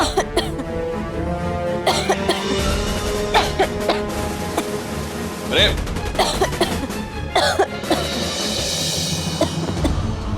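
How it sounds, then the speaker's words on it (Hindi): Repeated loud coughing bursts amid a busy, noisy room, with people talking over and between the coughs. "इतने जोर से खांसने की आवाज आ रही है"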